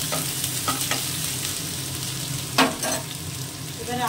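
Bay leaf, dried red chilli and ginger paste sizzle steadily in hot oil in a pan while cooking Bengali ash gourd greens, with occasional scraping stirs and clinks.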